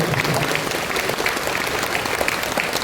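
A crowd claps steadily at a school graduation ceremony, with dense, even applause filling the whole stretch at full strength and no break.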